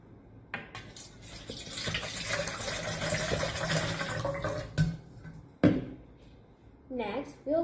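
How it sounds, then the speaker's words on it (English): Water is poured into a bowl for an absorption experiment: a steady splashing fill runs for several seconds, broken by a few clunks and handling knocks, with a brief voice near the end. "First, I will dip this water into the bowl."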